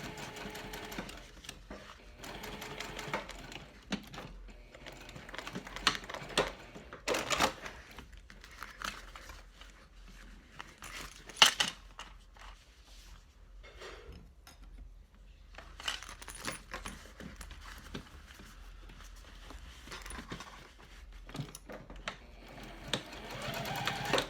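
Sewing machine stitching the lining of a mini backpack, running in bursts of steady mechanical whirring with short pauses and handling clatter between runs, close and moderately loud throughout.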